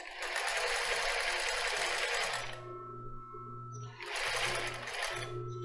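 A sewing machine stitches a lace bra in two loud, fast, steady whirring bursts. A lower mechanical hum continues during the short pause between them.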